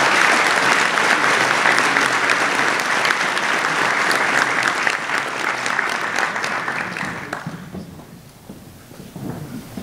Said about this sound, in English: Please join me in a round of applause to recognize these college officers.